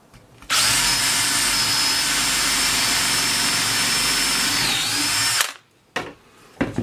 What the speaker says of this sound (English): let's see what happens once we drill it against another piece of thicker wood